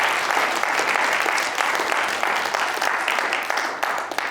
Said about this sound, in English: That's worth a clap.